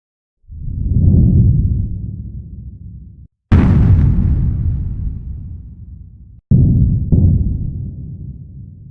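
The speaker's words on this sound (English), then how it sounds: "So these were, again, just me blowing into the microphone." Deep, booming rumbles and heavy impacts, made by blowing into a microphone, three or four in sequence, each hitting hard then fading slowly into a low tail.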